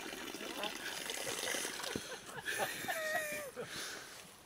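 Water trickles and splashes gently where the Missouri River headwaters begin as a tiny stream, a soft, close, continuous babble with faint whistling tones and people talking nearby.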